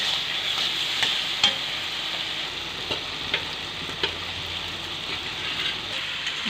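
Raw jackfruit pieces sizzle in a hot pan while a spoon stirs them, giving a steady frying hiss broken by occasional scraping clicks, close and even in level, with no voices.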